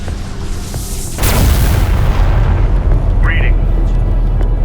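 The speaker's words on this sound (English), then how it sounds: "Orbital platform ready. Firing." In Homeworld: Deserts of Kharak, an orbital platform opens fire with a sudden heavy boom, then a loud, sustained low rumbling roar that stays dense to the end, with faint voices underneath.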